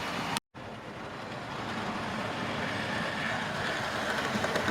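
A model train runs on a loft layout, giving a steady, continuous rolling rumble that stays close and even, with no talking.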